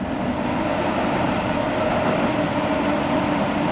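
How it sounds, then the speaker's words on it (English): A train rolls past on a summer evening, a steady, loud, dense rumble with rail noise filling the whole stretch, unbroken from start to finish and with no voices. "See, we didn't miss the train, guys."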